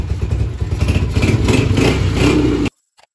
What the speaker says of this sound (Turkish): Motorun sesi bile değişti lan.